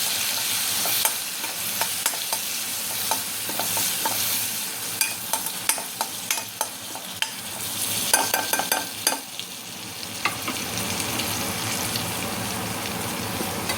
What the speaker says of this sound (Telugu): అప్పుడు కొంచెం పసుపు కరివేపాకు వేసుకొని కలుపుకోవాలి